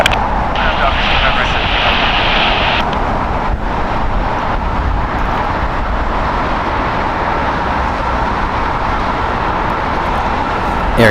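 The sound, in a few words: airliner taking off at LAX airport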